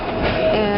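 The historic Red Arrow train, with its original wagons and locomotive, rolls out through Palma toward Sóller, a steady close rumble of rail cars with a faint high wheel tone.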